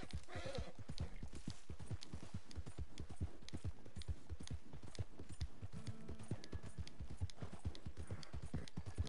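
Hooves clip-clop in a steady walking rhythm as a horse is ridden in a video game, with a neigh near the start, close and alone without talk.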